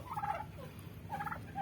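Two bursts of turkey gobbling, a warbling rattle repeated after a short pause, moderately close over faint background noise.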